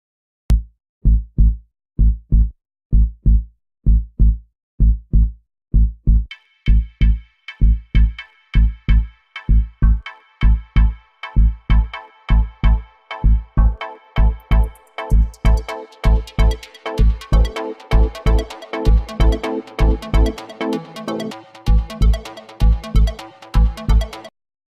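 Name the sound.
big room prog house bass, lead and chord loops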